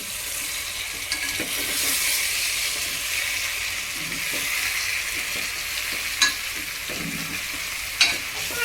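Spiced masala being stirred through stuffed bitter gourd in a hot pan, a steady frying sizzle with soft scraping strokes and a couple of sharper clinks of the spoon against the pan.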